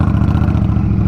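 A 2023 Indian Scout Rogue motorcycle engine downshifting toward first gear, its low, pulsing exhaust throbbing steadily and loud up close with a dense clattering beat.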